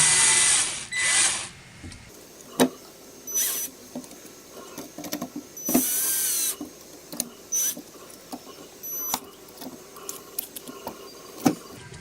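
Screws are driven in with a small powered driver to mount an RB3 mainboard. Several short, close whirring bursts come at uneven intervals, separated by quiet gaps and light handling clicks.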